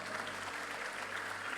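Church congregation applauding steadily throughout, a soft, even wash of clapping at a distance with no break.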